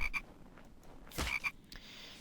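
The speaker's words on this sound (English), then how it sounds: "You didn't escape my view, little frog." A small frog croaks outdoors near a water's edge around dawn, giving a few quiet, brief chirping calls over faint ambient background.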